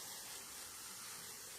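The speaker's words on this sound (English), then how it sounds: "a mist setting on your hose is really, really helpful" Garden hose on a mist setting spraying a fine, steady hiss over newly sown seeds, soft and continuous throughout the short moment.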